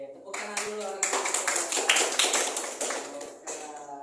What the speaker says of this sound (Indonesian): tepuk tangan dulu anak-anak